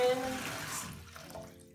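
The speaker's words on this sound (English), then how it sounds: "I run the hot water to like steep it like a tea bag" Hot water runs from a tap into a bathtub, a brief splashing gush that fades over under two seconds.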